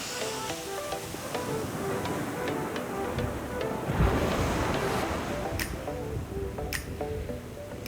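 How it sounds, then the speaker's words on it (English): Ocean waves roll and wash onto an Aruba beach, a steady rushing surf with one stronger surge midway, joined by faint ticking clicks and some wind. "There are big waves."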